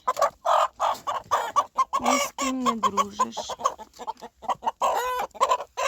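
A rooster, just placed among bantam hens, clucks and makes low throaty calls in short bursts, close by, while a person talks over it.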